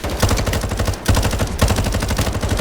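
Rapid bursts of small machine gun fire from a Modern Warfare 4 campaign level, loud and dense, with a brief pause near one second before the rattling volleys resume.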